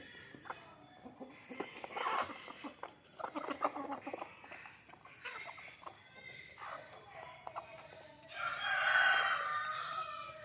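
Country chickens in a rural yard, scattered clucks and short calls throughout, ending in a louder rooster crow near the close, moderately distant and fairly quiet overall.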